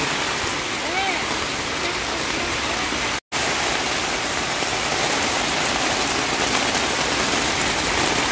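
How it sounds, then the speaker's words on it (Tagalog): Heavy storm rain pours down on a sandbank campsite at night in a dense, steady roar, with a brief dropout partway through and no talking. "Sobrang lakas ang ulan."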